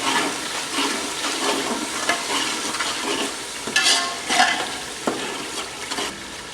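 A spoon stirs chilli, turmeric and coriander into potato and eggplant frying in a pan, with sizzling and repeated scraping strokes and clinks, close and moderately loud.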